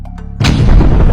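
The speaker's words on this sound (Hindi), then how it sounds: "वहाँ लगाए गए बॉम्ब्स को विस्फोट कर दिया और सबको एक ही धमाके में खत्म कर दिया" Planted bombs detonate in an animated story as one sudden, very loud blast that follows a brief quieter moment, then a heavy rolling rumble sustains afterward.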